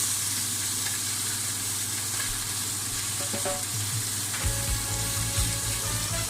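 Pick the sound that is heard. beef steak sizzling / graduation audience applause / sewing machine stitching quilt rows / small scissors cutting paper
beef steak sizzling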